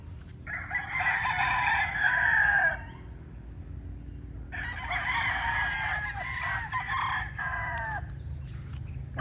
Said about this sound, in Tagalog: Sobra stress yung mga manok natin